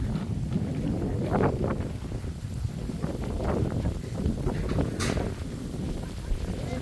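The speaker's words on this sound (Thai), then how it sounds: "ลมดีบรรยากาศดี" Wind gusts outdoors among coconut trees near a rural Thai fishpond, rumbling steadily against the microphone with a few brief knocks and rustles over it.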